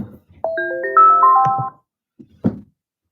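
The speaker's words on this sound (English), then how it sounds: "oh, I have a phone call." A short melodic phone ringtone plays a rising run of bright tones, followed by a couple of soft thumps and handling noises.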